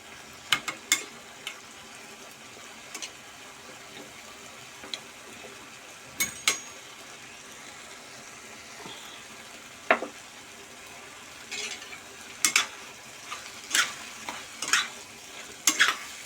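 Chana dal and ground masala with Malvani masala sautéing in a pan for a spicy Kolhapuri dish: a low, steady sizzle broken by scattered spoon scrapes and clinks, with a few sharper stirring knocks near the end.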